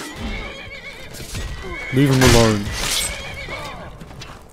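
A horse in the video game Skyrim lets out one loud, rising whinny in the middle of the clip, with a person talking and game sounds underneath.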